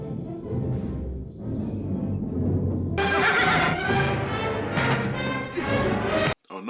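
Horses whinny and snort in a Western film scene from High Noon (1952), with a loud, busy soundtrack around them that ends in a brief cut to silence.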